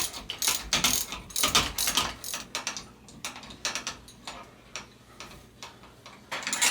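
A ratchet wrench loosens bolts on a Rock Shox Jett C suspension fork, making rapid, close mechanical clicking in uneven bursts, with brief pauses between strokes.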